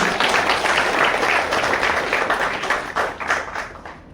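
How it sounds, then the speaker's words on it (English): An audience at a business leadership event breaks into loud, sustained applause, a dense crowd of clapping hands that holds steady before tapering slightly near the end. "Let's give a big round of applause to him."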